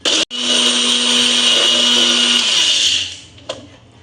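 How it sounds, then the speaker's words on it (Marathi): A mixer grinder jar whirs loudly on a batch of metkut spice powder, starting with a brief blip, then a steady high-pitched grinding drone for a few seconds before winding down and stopping. "हे मिक्सरच्या जारमध्ये टाकायचे आणि पुन्हा एकदा फिरवून घ्यायचं"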